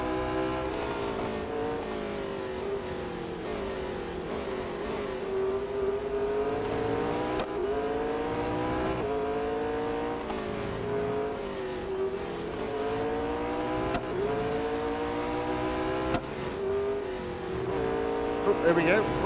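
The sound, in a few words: race cars in video game Real Racing 3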